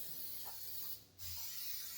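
An aerosol can sprays clear rust coating onto unprepped metal of a 1966 Ford Mustang. The hiss is soft and steady and breaks off for a short moment partway through.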